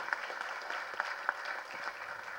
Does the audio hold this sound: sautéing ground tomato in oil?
no